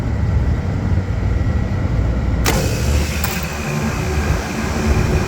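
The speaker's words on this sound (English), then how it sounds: "Compressor stage 1 start." A Trane packaged air conditioner starting its stage 1 compressor during a test run: a loud continuous mechanical hum and rumble, with a sharp click as the compressor engages partway through and a second brief click soon after.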